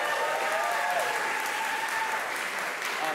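Sustained audience applause at a choir recital, a dense steady wash of clapping that holds evenly throughout, with faint tonal sounds and voices mixed underneath.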